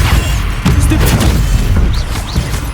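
Stupefy spell cast during Hogwarts Legacy gameplay on PS5, a loud burst of magical impacts and booming thuds within a dense, continuous bed of combat sound.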